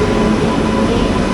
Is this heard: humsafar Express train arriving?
yes